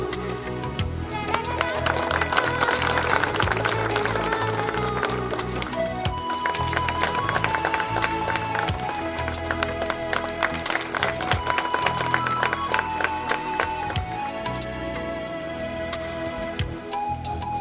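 Audience applause at a farewell ceremony during a general meeting of the Devbhoomi Dwarka talati-cum-mantri association, a dense, steady clapping from a crowd that runs throughout with some voices and music mixed in.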